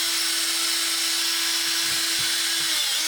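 A drill bores new mounting holes in the shell of a salvaged Orange Crush guitar amplifier, a steady high-pitched whine holding for about three seconds, close and continuous with no voices.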